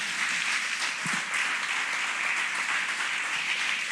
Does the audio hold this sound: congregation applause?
yes